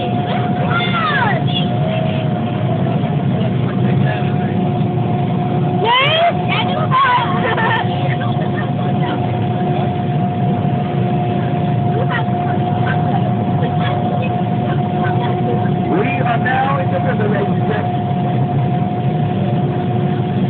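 An amphibious duck tour vehicle moves through London with a steady engine drone and a constant tonal hum, while passengers and a guide talk over it.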